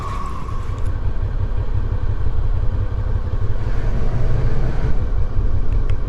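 A motorcycle rides along a road on a hot day, its engine drone and wind rush loud, steady and close for the whole stretch, with no voices.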